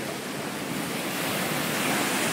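Ocean surf rolls onto the sand at Jupiter Beach, Florida, a loud, continuous wash of breaking waves and foam with no pauses.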